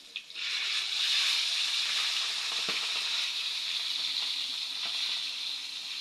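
Galunggong fish fry in hot oil with a steady, bright sizzle that holds from start to finish, broken by a few faint clinks and bumps, and no one speaking.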